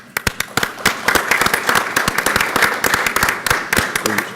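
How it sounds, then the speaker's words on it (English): Applause at a city council meeting, a room of people clapping steadily and fairly loudly for several seconds, with sharp individual claps standing out. "a round of applause"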